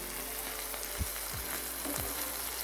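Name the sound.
chicken breasts frying in pan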